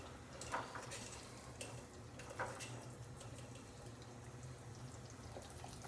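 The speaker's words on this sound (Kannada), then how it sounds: "ಇನ್ನೂ ಸ್ವಲ್ಪ ನೀರು ಹಾಕ್ಬಿಡ ಅಷ್ಟೇ." Water poured into a cooking pot in a home kitchen, a soft continuous splashing and trickle at low level with faint clinks, no talking.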